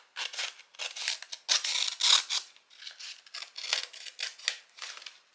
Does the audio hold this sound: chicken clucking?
no